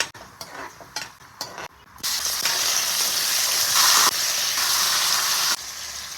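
Urad dal, chana dal, mustard seeds and peanuts frying in oil in a pan: a few scraping stirs, then a loud, continuous bright sizzle that swells and eases slightly, with no talking.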